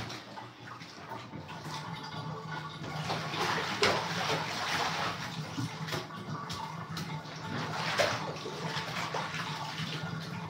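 Bathwater drains from a tub in a steady, close gurgling wash, with small sloshes and surges rising and falling.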